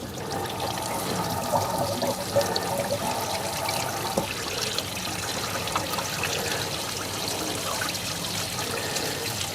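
Water flushing through the engine block and heater hose of a Troopy: a steady, close rushing and splashing stream with trickling gurgles, continuous and fairly loud throughout.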